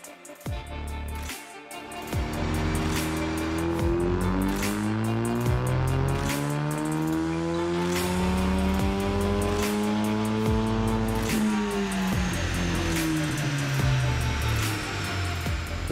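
An EcoBoost Mustang race car, daily driven with about 100,000 miles, roars steadily on a dynamometer as the engine climbs through a long sustained pull, loud and close with rising harmonic tones and no talking.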